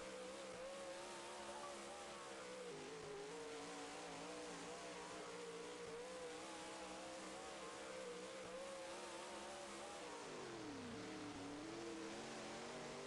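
Dirt-track race cars in the iRacing simulator: a loud, continuous engine roar with shifting pitch, dipping briefly near the end as the throttle eases, with no talking over it.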